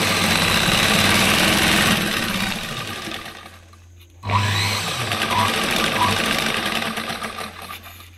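A sewing machine runs fast and steady while stitching a sleeve onto a blouse, pauses briefly, then whirs on again close by.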